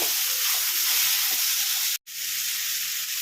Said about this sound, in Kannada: ಮೂರು ಟೊಮೊಟೊ ಹಾಕ್ತಿದ್ದೀನಿ ಚೆನ್ನಾಗಿ ಫ್ರೈ ಮಾಡ್ಕೊಳ್ತೀನಿ